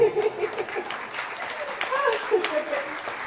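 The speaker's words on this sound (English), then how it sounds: "give you guys yourself a round of applause" A crowd applauds at a DreamWeek San Antonio commencement ceremony, moderately loud clapping with voices and some tonal sound mixed in over a few seconds.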